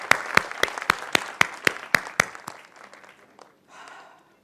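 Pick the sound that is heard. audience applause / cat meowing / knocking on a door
audience applause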